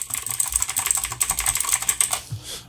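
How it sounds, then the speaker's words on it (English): Fast, steady typing on a mechanical keyboard with clicky tactile switches, each press giving a sharp, bright click, heard close and alone in a continuous rhythmic burst. "The other one has clicky and tactile switches."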